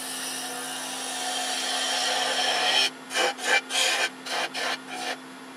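A fine gouge making a shearing cut on turned wood on a lathe: a long steady scraping hiss under a motor hum, then six short rhythmic cutting bursts.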